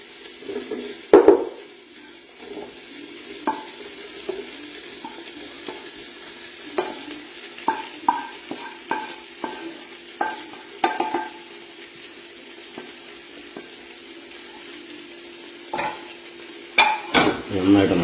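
Fried soya chunks are stirred around a hot pan, a steady sizzle underneath and a run of utensil scrapes and clinks against the metal, sparse at first, then denser in the middle and again toward the end.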